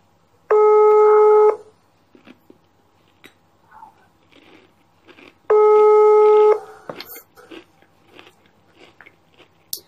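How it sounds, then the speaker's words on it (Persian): A WhatsApp call ringing tone, two long loud tonal bursts a few seconds apart, each about a second long, with faint clicks and room noise between them. "سعی میکنم با واتساپ خدمتتون تلفن بزنم"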